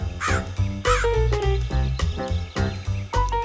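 A crow caws repeatedly, loud and close, several harsh calls in quick succession.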